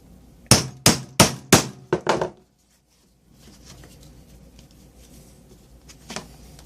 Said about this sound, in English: Now, punch my holes.